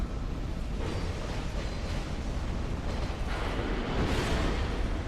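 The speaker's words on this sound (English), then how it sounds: "Watch out for the force explosion." A force explosion attack from a boss in Dark Souls 2 at Drangleic Castle, a sustained roaring blast of rumbling noise that swells twice, with no voices.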